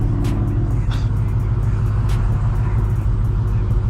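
Supercharged Dodge Hellcat Redeye V8 rumbling loudly and steadily at close range, a continuous dense low throb with no talk over it.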